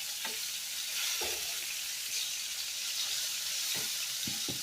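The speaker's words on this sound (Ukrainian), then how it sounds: "рибу я досмажила" Pieces of fish frying in a pan, an even hissing sizzle punctuated by several brief knocks and scrapes of a utensil, close by with no voices.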